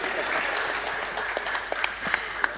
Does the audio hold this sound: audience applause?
yes